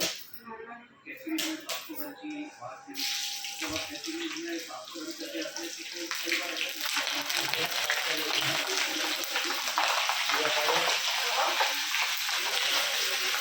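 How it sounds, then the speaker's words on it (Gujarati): Green chilies for bataka vada drop into hot oil. After a few seconds of clattering and brief voices, a loud, continuous deep-fry hiss and sizzle rises and holds. "મરચાં તળાઈ ગયા જોરદાર."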